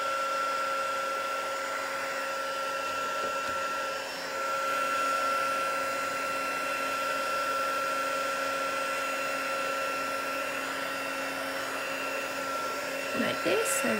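A handheld dryer blows steadily and close over art journal paint layers, a constant whirring hum with a brief dip partway through, then a few light clatters near the end.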